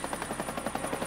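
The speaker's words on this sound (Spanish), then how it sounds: "El helicóptero va muy rápido." Cartoon helicopter flying fast, a steady rapid rotor chop pulsing loudly throughout the short burst with no talk over it.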